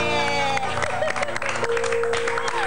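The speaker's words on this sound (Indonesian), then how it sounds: "Tepuk tangan." An audience applauds over a musical backing with sustained tones, steady and loud throughout, with some voices mixed in.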